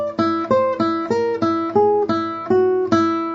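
E whole tone scale picked on guitar, bouncing off the open string, as a steady sequence of about eleven ringing plucked notes, each attack clear and sustaining briefly into the next, alone and close.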